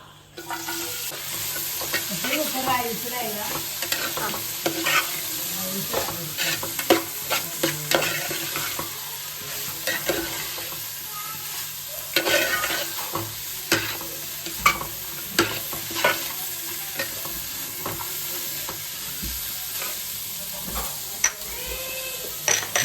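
Onions frying and being stirred in coconut oil in a pan for chicken kappa biryani, a steady close sizzle with repeated scraping and stirring clinks throughout, no talk.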